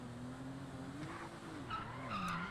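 A car in GTA 5 skids with rising and falling tire squeals over a revving engine, loud and close, with no talking.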